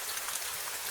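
Steady rain falls in a dense, even hiss of drops, soft and continuous with no voices.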